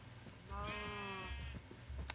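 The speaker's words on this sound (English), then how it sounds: "Oh man, I got a freaking whole herd coming now. And there's more sheep on the way." A single sheep in the video game Minecraft bleats once in a wavering, mid-distance cry over faint background noise.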